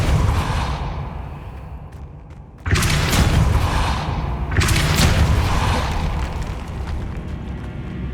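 Depulso force spell cast in Hogwarts Legacy, a sudden loud magical blast that cuts in sharply after a quieter stretch, followed by a second surging burst and a lingering rumbling tail.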